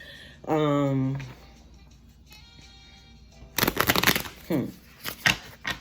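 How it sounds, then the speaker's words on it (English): A voice speaks briefly, then tarot cards are shuffled in quick riffling bursts, crisp and close, ending in a few separate flicks. "I'm gonna shuffle this real quick"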